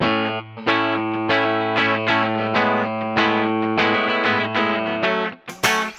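Clean electric guitar on the back pickup through a Laney L5 Studio amp, bass and treble rolled back slightly, ringing out a run of sustained chords and notes with steady strums, close and fairly loud, alone.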